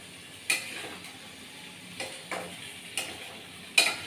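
Fried potatoes and eggs being stirred in a pan for a spiced egg curry: faint, spaced scrapes of a spoon against the pan, about five soft strokes over a low, quiet sizzle.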